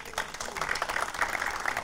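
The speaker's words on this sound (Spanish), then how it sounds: "Un fuerte aplauso para él." Brief burst of audience applause at an intercultural community event, a dense patter of hand claps at moderate distance lasting under two seconds.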